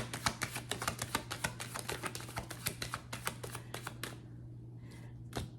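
Tarot cards are drawn from a deck and laid out on a table in quick, steady flicks and taps, close and soft over a low hum, thinning to a couple of final placements.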